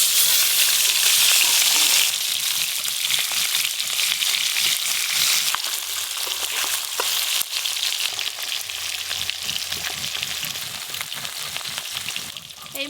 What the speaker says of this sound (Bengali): এবার এই মাছগুলো সব একসঙ্গেই ভেজে নেব।